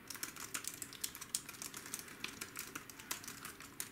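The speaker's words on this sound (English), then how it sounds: "Now this one is a mechanical keyboard." Rapid, clacky keystrokes on a cheap mechanical keyboard, a steady run of sharp, high-pitched clicks heard close up with no talking.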